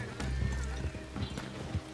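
Horse hooves clip-clop in Red Dead Online, a steady near rhythm of hoof falls, with a brief whinny and faint game background behind them.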